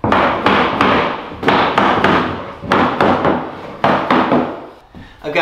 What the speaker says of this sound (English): pre-drilled at an angle and then nailed them down to hold them in place